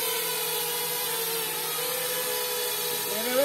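An FPV drone lands, its motors giving a steady high buzzing whine with shifting tones that holds close and fairly loud throughout.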